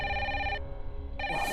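A telephone ringing indoors in a home, a loud electronic ring in two bursts separated by a short pause, heard alone with no talk.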